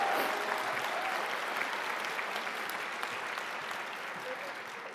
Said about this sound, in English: let's give them a large round of applause